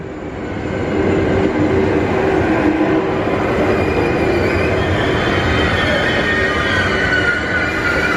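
A train to Disneyland Paris rumbles steadily past close by, a loud continuous roar of wheels and carriages with faint metallic squeals, no one speaking.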